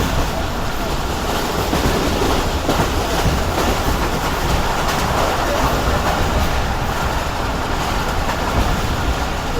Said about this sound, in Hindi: काफ़ी बेहतरीन स्पीड पर ट्रेन ने स्किप किया है गुजरांवाला स्टैंड को।